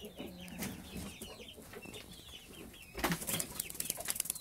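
Hens and chicks cluck and chirp inside a henhouse, with repeated short calls and a rustle of movement that grows busier and louder toward the end, with no voices.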